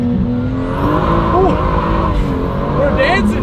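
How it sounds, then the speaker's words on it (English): A BMW M2 F87 engine with a new intake pulls hard, the engine note rising as turbo boost builds and a high whistle rides on top, while people talk excitedly over it. "I love how you just hear the boost building up."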